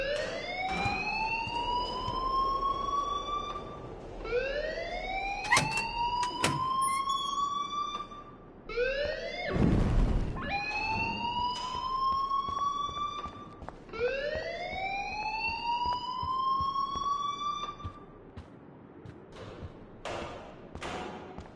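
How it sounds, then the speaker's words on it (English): An alarm in Life is Strange Remastered wails in repeated rising sweeps, about five cycles, loud and steady, punctuated by sharp clicks and a heavy thump midway. "please turn off that alarm since that's your job"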